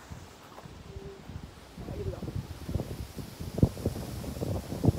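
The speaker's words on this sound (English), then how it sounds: "God, the wind!" Gusty outdoor wind buffets the microphone in a low, rumbling roar during backyard wiffle ball batting, rising after the first couple of seconds, with soft thuds and rustles mixed in and no voices.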